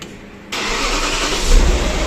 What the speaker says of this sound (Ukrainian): Двигун завівся.